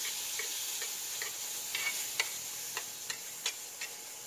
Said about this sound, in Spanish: Vamos a derretir la mantequilla aquí